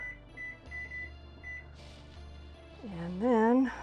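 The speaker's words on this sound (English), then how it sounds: "I'm gonna set a 3-minute timer." Kitchen timer being set for three minutes, with a few short regular beeps from the keypad at the start, followed by kitchen noise and a voice speaking loudly near the end.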